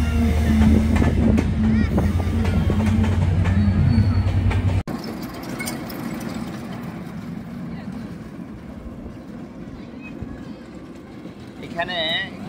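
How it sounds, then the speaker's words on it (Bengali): A train passing near a park brings a loud, heavy rumble with tonal engine drone for about five seconds. It then cuts abruptly to quieter outdoor ambience with faint voices and a brief high whine near the end. "ট্রেনের ভিডিও করতেছি।"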